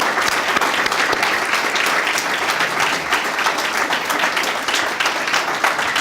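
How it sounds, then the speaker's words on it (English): A lecture-hall audience at a McDaniel College talk gives a huge round of applause, loud steady clapping from many people filling the whole stretch without pause. "I want to see if everybody would join with me giving a huge round of applause to David Moskowitz."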